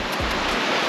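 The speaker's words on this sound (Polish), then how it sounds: "Delikatnie sobie te fale się rozbijają od brzeg." Gentle sea waves break softly on a calm shore, a steady broadband wash of surf with a low rumble, continuous and close for under a second, with no voices.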